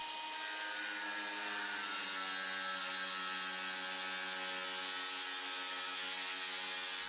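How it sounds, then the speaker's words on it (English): An angle grinder cuts through the end of a pipe during bathroom plumbing work, giving a steady, sustained high-pitched whine with a ringing tonal drone that holds evenly throughout, heard alone without talk. "Use an angle grinder."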